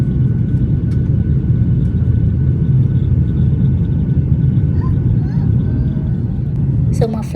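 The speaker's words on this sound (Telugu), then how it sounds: "సో మా ఫ్లైట్ అయితే టేక్ ఆఫ్ అయిపోయింది" Ryanair airliner taking off from Milan, its engines a loud, steady roar heard from inside the cabin that holds constant throughout.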